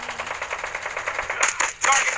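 Rapid automatic gunfire in Call of Duty: Mobile, a fast rattling burst that pauses briefly and then resumes, loud and close.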